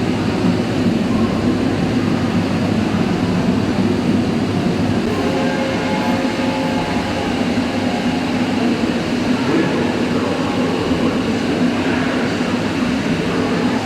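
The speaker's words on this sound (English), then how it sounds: "The museum has lots of films of trams in action." An old electric tram running, heard as a steady rumbling roll with a continuous mechanical hum and faint rattles that hold at an even loudness throughout.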